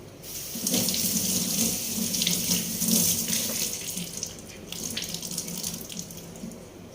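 Tap water runs steadily into a sink while vegetables are washed, a close, continuous splashing stream that surges and softens as the produce is moved under it, then eases off toward the end.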